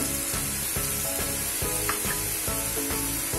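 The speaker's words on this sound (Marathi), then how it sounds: "पण हे चांगलं परतून घेऊ" Turmeric, asafoetida, cumin and coriander powder sizzle steadily in hot oil for palak paneer, a continuous close frying hiss with rhythmic stirring scrapes across the pan.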